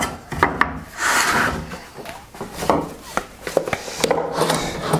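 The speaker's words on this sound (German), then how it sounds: "jetzt sägen wir hier auch wieder eine leichte Schräge ran" A saw cuts a slight bevel into wooden slats for a DIY robotic mower garage, with repeated rasping strokes of wood rubbing and scraping at close range.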